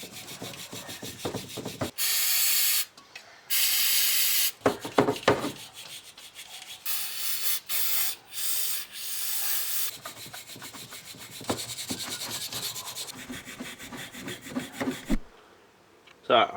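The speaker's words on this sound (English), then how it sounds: "what I can do is just make sure I sand it just enough to get rid of any burrs so it won't stick into the carby chamber" Sandpaper rubbed over the edge of a Honda farm motorbike carburetor part to take off burrs, in several loud bursts of rasping strokes separated by pauses, with quieter handling noises between.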